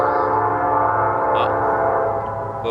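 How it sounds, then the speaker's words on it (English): A passing train rumbles loud and close, a steady, unbroken drone with a strong tonal hum, plus a couple of brief high clanks. "Oh, little train."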